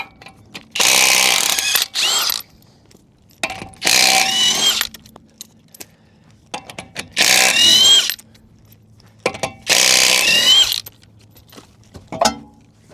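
Four loud bursts from an impact wrench spinning 21 mm lug nuts off the wheel of a 1998-2002 Toyota Corolla, each burst a second or so long with short quiet gaps between.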